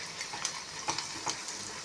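A spoon stirs meat frying in a pan after a spoonful of salt goes in, giving a steady close sizzle broken by a few light scraping clicks, with no talking.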